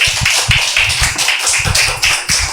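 A church congregation claps in rhythm during a Spanish-language sermon, a steady series of sharp, close hand claps with no talking.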